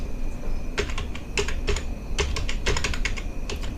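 Quick, uneven bursts of key clicks come from a computer keyboard while a shipping setup is entered on a computer, close and clear with short pauses between runs and no talking.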